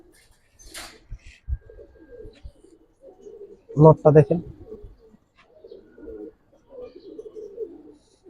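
Pigeons, including a male bird, coo softly in a loft, with a louder burst of throaty cooing in the middle while someone talks nearby.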